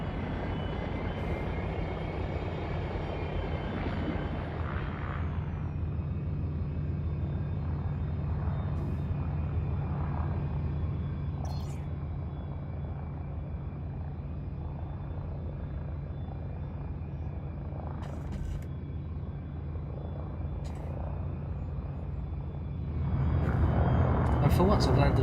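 The Icarus spaceship in a video game comes in to land with its gear down, a loud steady engine rumble and whine that shifts pitch partway through and swells again near the end, with a voice speaking over it.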